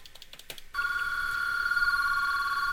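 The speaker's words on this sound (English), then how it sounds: "We heard the phone ring." An IP phone rings for a call placed between two internal extensions, a steady electronic ring tone sounding alone after a brief lead-in of clicks, continuous and clear up close.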